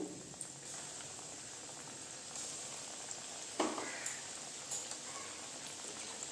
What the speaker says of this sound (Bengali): এই যে দেখেন আরগুলো আমি এইভাবে দিয়ে দিচ্ছি তেলের মধ্যে।